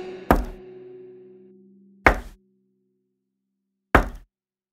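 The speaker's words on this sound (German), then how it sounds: "Und dann hörte sie ein Klopfen an der Tür." Three loud, separate knocks on a door, spaced about two seconds apart in a quiet room, the first trailing into a faint lingering tone.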